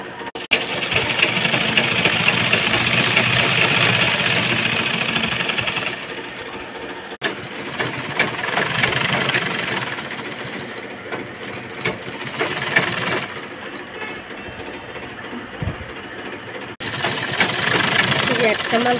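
A sewing machine stitches a nightie, running in long steady mechanical whirring bursts with brief pauses between them, while someone talks over it.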